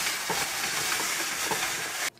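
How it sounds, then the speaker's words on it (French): Firm apples are grated coarsely on a clean hand grater, making a continuous loud scraping hiss of repeated strokes that stops abruptly at the end. "Avec une râpe bien propre, je vais râper les pommes grossièrement."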